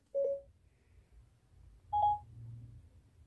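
Siri on an iPhone places a call through wireless Apple CarPlay in a 2021 Hyundai i20, sounding two short clear electronic tones a couple of seconds apart over a low cabin hum.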